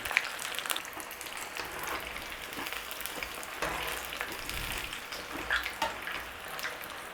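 Steady crackling sizzle of paneer frying in hot oil, with scattered small pops throughout.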